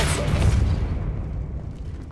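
Depulso spell in Hogwarts Legacy, a loud low thump and whoosh at the start that decays into a rumbling tail and fades over about two seconds.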